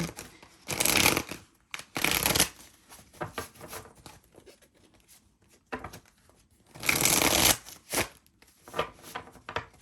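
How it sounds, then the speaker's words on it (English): Tarot cards riffle-shuffled in bursts, each a crisp rapid flutter lasting about a second, with quieter handling and tapping between, close up. "give this 2 more shuffles"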